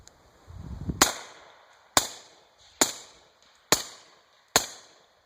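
A 300 Blackout rifle fires supersonic ammunition outdoors: five sharp, loud cracks come at a steady pace about a second apart, each followed by a short decaying echo, with no voices.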